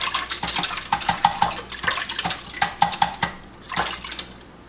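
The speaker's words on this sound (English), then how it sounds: "I'm gonna mix them with a whisk." Eggs being whisked in a bowl by hand ahead of baking a cake, giving quick, irregular metallic clinks and scraping taps against the bowl, fairly close and steady with brief pauses.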